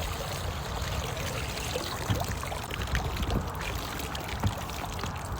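Water drains and trickles from a Yousky pool vacuum lifted out of a pool, a steady close stream with a few splashy spikes and no talking.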